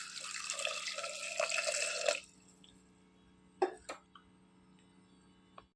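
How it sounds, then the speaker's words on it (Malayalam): Water poured from a glass into a pot while cooking tapioca and green gram curry, a splashing pour lasting about two seconds, followed by a few faint clinks and drips in a quiet kitchen. "ഒരു 2 ഗ്ലാസ് വെള്ളം ഒഴിച്ചു കൊടുത്ത്."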